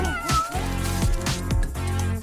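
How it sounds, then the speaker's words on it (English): A cat meows several times in quick succession, loud and close, with a harmonic, somewhat strained caterwauling quality and no voices over it. "A kitty?"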